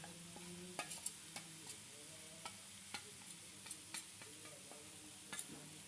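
Spices being stirred and mixed in a sizzling pan for chicken macaroni, with a faint steady fry and scattered light scrapes and taps of a spoon, fairly quiet and close.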